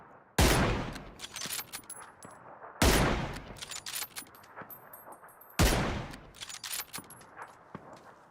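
Three loud bursts of automatic gunfire in PUBG, each a sharp blast trailing into rapid crackling shots and clinks, spaced a few seconds apart with game-like clarity.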